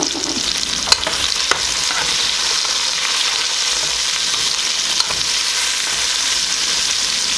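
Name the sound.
onions and garlic sautéing in a pan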